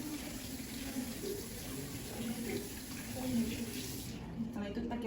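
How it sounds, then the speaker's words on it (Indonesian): Tap water running steadily for a rinse, a continuous close splashing hiss that shifts slightly toward the end, with a voice talking faintly over it. "Dan bilas dengan air."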